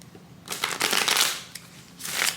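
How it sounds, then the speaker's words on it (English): Tarot cards being shuffled by hand during a love reading, two bursts of soft papery riffling close up, the first longer and the second short, with no talking. "we're going to shuffle this"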